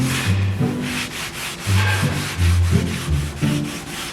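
Hand sanding of a yacht's boat hull with 180 grit sandpaper, a close, steady run of rhythmic rubbing strokes, about six back-and-forth passes of gritty scraping with no talk.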